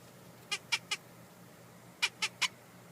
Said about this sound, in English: We've got our squirrel barker right here.